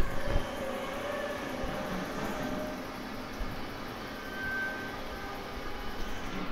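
A steady rumbling train sound with metallic rolling noise from the video game Granny 3, continuous and fairly loud, with no voices.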